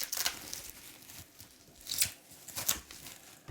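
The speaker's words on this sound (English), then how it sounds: "So you get this one last layer of bubble wrap." Last layer of bubble wrap being pulled off a mail-order comic book package, with several bursts of crinkling, tearing plastic close up, quieter between them.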